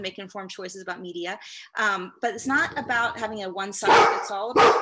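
A dog barks in short repeated bursts under and between steady speech from a person talking, with a louder bark near the end.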